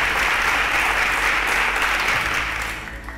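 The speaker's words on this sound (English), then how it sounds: "A round of applause for Kamsi." An audience at a quiz show event gives a round of applause, a steady dense wash of clapping held loud throughout before tapering slightly at the end, with no talk over it.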